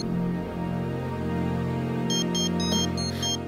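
A telephone ringtone chirps in short repeated electronic bursts, with about five quick rings over a steady background hum in an indoor scene from a Tamil TV serial.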